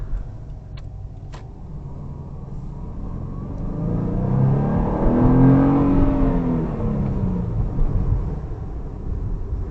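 2007 Subaru Impreza 2.0 with 160 HP accelerating on evening city streets, an engine rising in pitch and loudness to a peak midway, then easing off, heard from inside the car.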